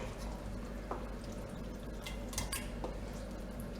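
Homemade fish paprykarz being spooned from a pan into a larger pot for a holiday dish: a few soft clinks and wet scrapes over a quiet kitchen background.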